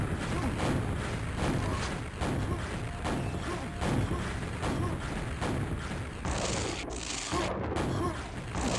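Rockets and a lightning-shaft beam are fired in Quake Champions, a steady barrage of rumbling explosions and crackling weapon noise that stays loud and dense from start to finish, with a brief break near the end.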